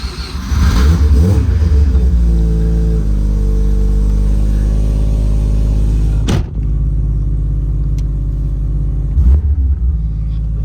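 A Mazda RX7 FC rotary engine idles and runs after starting, a loud, close, steady low rumble with harmonic drone, interrupted by a couple of sharp clicks or bumps.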